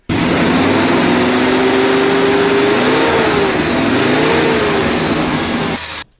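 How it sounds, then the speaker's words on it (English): A car engine revs up and accelerates loudly and close, its pitch climbing and wavering for about six seconds before cutting off abruptly. "and the car is propelled forward."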